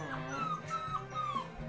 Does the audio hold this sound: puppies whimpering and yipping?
yes